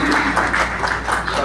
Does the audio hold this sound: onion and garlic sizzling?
no